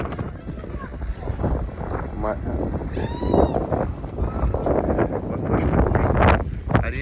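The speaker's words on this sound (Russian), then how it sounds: "Сегодня ветреный день." Strong wind blows steadily across an outdoor holiday setting, a continuous broadband rush with gusts building toward the end, while people talk over it throughout.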